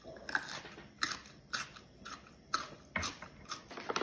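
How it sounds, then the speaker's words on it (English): Crisp crunching bites and chews of a garlic dill pickle, loud and close, recurring about every half second in a steady rhythm with no talking. "Now that crunch is amazing."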